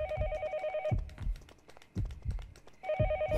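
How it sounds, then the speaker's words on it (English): In the game Yomawari Night Alone, an old-style telephone rings with two clear electronic trills, close and loud, over a soft rhythmic thumping like footsteps. "Is that a phone ringing? Yes, it is."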